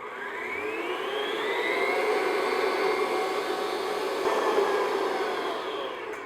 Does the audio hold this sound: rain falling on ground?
no